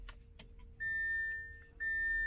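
An Audi A3 (8V) dashboard at ignition with needle sweep active: a few soft clicks, then two sustained electronic warning tones, each held about a second, clear and close inside the quiet cabin.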